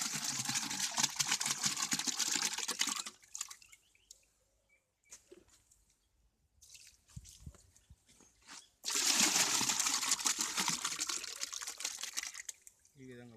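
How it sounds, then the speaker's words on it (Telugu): A water and cow dung slurry pours and splashes into a large drum for jeevamrutham, with loud bursts of gushing liquid at the start and end around a quieter stretch. "ఈ విధంగా పోసుకున్న తర్వాత"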